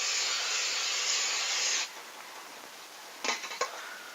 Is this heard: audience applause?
no